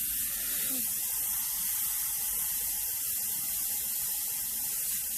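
Airbrush spraying paint while blending a dark monotone portrait, a steady, close, continuous hiss of air that holds an even level throughout with no break and no talk.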